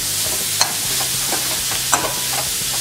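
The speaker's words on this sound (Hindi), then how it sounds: "अब ये तोरई जो हमने ग्रेट करके ली है ये इसमें ऐड करेंगे और इसे मिक्स करेंगे" Grated ridge gourd stirred into fried onion and spices in a pan, a constant loud hissing sizzle with a few soft spoon scrapes and knocks, no voices.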